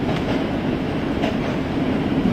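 An R line subway train heading to 14 Street-Union Square runs on its rails with a loud, steady rumble and a rhythmic clatter of wheels, and no one talks.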